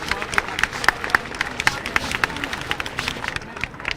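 An audience applauds at a welcome ceremony honoring Smt. Kalpana Soren, a steady crowd of clapping hands with a busy, uneven rhythm and some murmured voices beneath.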